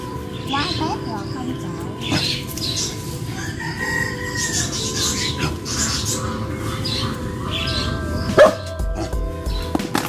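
A dog barking outdoors amid a busy yard, short barks mixed with a rooster crowing and people talking over it.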